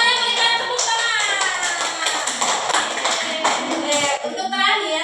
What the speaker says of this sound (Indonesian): Semuanya berikan tepuk tangan.